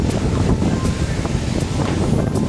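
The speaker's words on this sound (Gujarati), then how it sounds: "પાણીનો અવાજ તો જો આવે" A village waterfall pours down, its water rushing in a loud, steady broadband roar that fills the whole span without a break.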